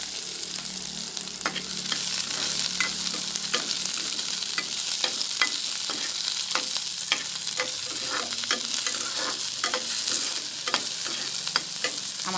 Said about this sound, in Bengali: কুচানো পেঁয়াজটা আমি দিয়ে দিচ্ছি